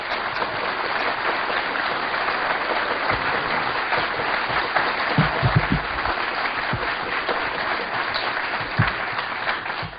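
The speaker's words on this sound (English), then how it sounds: "if you will please give a warm round of applause to Mark Phillips and Cathy O'Brien" Warm audience applause welcoming two speakers at a conference lecture, an even wash of many hands clapping for about ten seconds with occasional louder thumps and shuffles from the hall.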